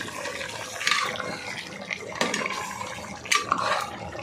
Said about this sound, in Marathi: आता आपण ह्याच्यात पाणी घालून घेऊया